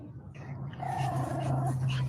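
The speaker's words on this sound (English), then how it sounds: "my dogs are growling, but Momo in particular got interrupted by a" Dogs growling indoors, a low sustained rumbling growl that swells and holds, close by with a brief higher whine partway through.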